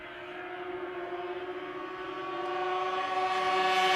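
A Ski-Doo racing snowmobile at the Canadian Power Toboggan Championships in Beausejour, Manitoba, holds a steady, high-pitched engine whine that swells louder as the sled draws nearer.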